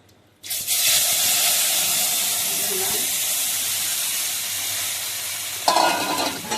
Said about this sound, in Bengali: জিরে দিয়ে দিচ্ছি জিরে ফুটে গেছে